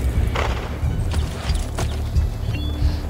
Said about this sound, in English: Move out of the way, horse.